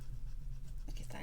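Bone folder rubbed firmly over layered paper scraps in a crafting project, a steady close scratching that continues throughout with a few sharper rasping strokes near the end.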